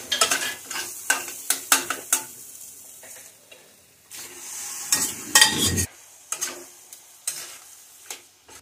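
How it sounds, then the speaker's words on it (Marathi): Mutton is sautéed in a Kolhapuri-style onion masala, with loud, uneven scrapes and clacks of a spoon against the pot over a bursting sizzle that swells and fades between strokes. "आपण याच्यामध्ये मटण घालून परतून घेऊया"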